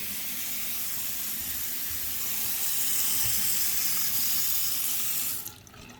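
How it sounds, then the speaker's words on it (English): Water runs hard from a tap at strong pressure, a dense close hiss that swells slightly before cutting off abruptly near the end. "Good water pressure up here."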